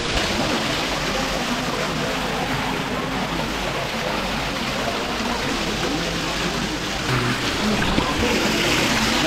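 Water rushes and flows in a steady, dense wash at Tirumala, loud and close, with no clear break for the whole stretch.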